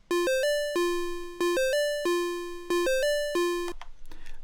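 Chiptune square-wave notes from a Dirtywave M8 tracker form a looping bleepy pattern of short and sustained tones, bright, buzzy and steady, ending abruptly with a faint noisy tail.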